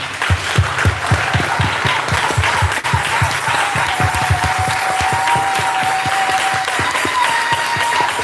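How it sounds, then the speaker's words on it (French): A church congregation claps in praise, loud and close, with rhythmic unison beats at first that loosen into a sustained, dense round of applause, and a faint tone sounding underneath. "Si vous aimez le Seigneur Jésus, applaudissons pour lui, pour son nom"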